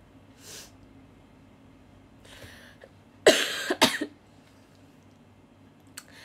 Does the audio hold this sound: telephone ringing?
no